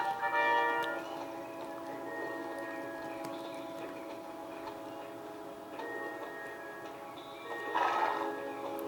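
Horse neighing and hoofbeats from a horse-riding video game, with a steady ticking gait under sustained game music and a brighter whinny toward the end.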